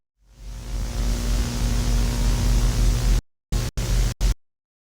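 Loud, steady broadband static hiss from a cartoon swells in, holds for about three seconds, then cuts off and returns in a few short choppy bursts.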